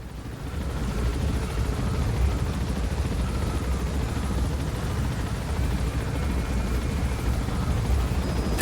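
A helicopter departs in Metal Gear Solid V: The Phantom Pain, producing a steady, loud low-frequency rotor rumble with dense broadband engine roar that holds constant throughout, with no talking over it.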